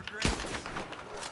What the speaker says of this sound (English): my rifle sounds like a cap gun